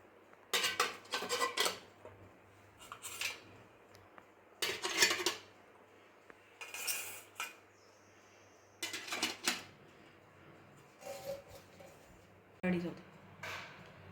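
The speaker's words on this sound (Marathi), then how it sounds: "आता इडली पात्रामध्ये मी खाली पाणी घातलेलं आहे आणि या ताटल्या मी इडली पात्रामध्ये ठेवणार आहे." Metal idli steamer plates with sago batter set into a steamer pot with water below, giving several distinct clinks and clatters in short bursts, moderately close, with gaps between.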